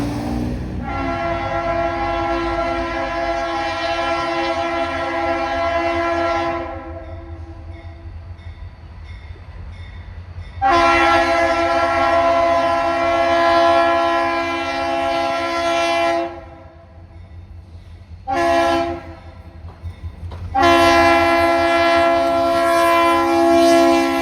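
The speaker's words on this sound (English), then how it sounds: "this time off Feezer Drive as the train approaches the home stretch to High Rock" A freight train on a short-line railroad in central North Carolina approaches, its horn blaring in long loud blasts with short gaps, and a rumbling train underneath.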